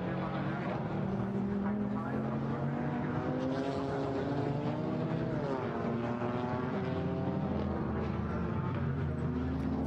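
GT4 race cars at the Nürburgring howl past the pits in a continuous, loud engine drone with rising and falling pitch as they pass, under steady commentary.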